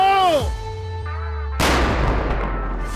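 A shouted voice comes first, then a police bomb squad's explosive detonation bursts in suddenly and leaves a loud, sustained rumbling roar that fades slowly.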